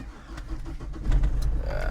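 A Ford Everest SUV engine runs smoothly at idle, a low, steady hum that rises slightly partway through, fairly faint, with no talking.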